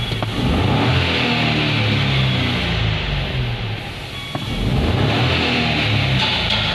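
Renault Triber with an RPM fluctuation fault revved by the accelerator, a nearby engine rising and falling in repeated surges over a steady running drone, with no speech.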